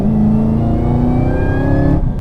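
A Camaro ZL1 with manual gearbox held in a high gear at full throttle, its engine note climbing steadily in pitch as it pulls hard, loud and close inside the car, with no talk.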